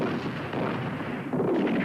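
Heavy tank or anti-tank gun fire in a desert war film battle, a dense, loud booming rumble filling the short stretch with a continuous roar of blasts and no clear speech.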